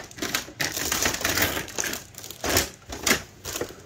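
Pinking shears cut through cloth for a sewn cloth pad, giving close, crisp crunching snips in an uneven rhythm, several cuts following each other within a few seconds.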